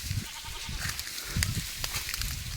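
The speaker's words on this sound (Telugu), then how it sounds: "ఇప్పుడు అవి కొండ దగ్గర వచ్చే మేకలు బయటకు వచ్చాయి" Goats of a tribal hill herd bleat repeatedly near a forested hillside, several overlapping calls rising over a steady outdoor background with no talking.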